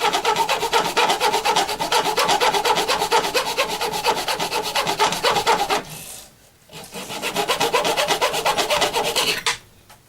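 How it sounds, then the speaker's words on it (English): Sanding a wood-turned base with an 80 grit disc on a sander, producing a steady loud rasping rub that drops briefly around the middle, then resumes before a short cut-off. "Ready to part this out, and the base I will sand it, just sand it down."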